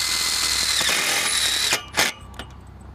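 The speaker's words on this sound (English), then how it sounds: "we just screw off each cleat either side of the post" A power drill whirs steadily as it drives screws through timber cleats into fence posts, close and loud, then cuts off into a couple of short bursts and clicks at the end.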